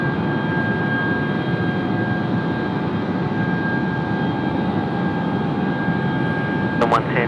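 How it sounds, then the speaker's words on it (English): A jet airliner holds a high-powered engine run at the runway 25 threshold at Sydney Airport, a steady loud roar with a whining tone sustained throughout, heard from a distance with a short chirping sound near the end. "Wow, that is quite the engine run."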